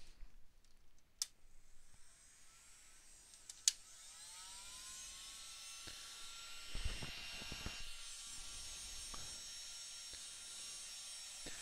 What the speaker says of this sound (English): let me see if I can find my blow dryer here, and we'll maybe dry this a little bit quicker